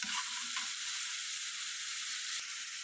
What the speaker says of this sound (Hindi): इसके लिए मैंने एक मिर्ची ली है, एक ओनियन और एक टमाटो लिया है, जिसे मैं अभी थोड़ा सॉफ्ट होने तक फ्राई कर लूँगी